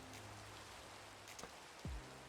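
Steady rain in the Minecraft modpack All The Mods 6 patters evenly and softly throughout, with a brief low thud near the end.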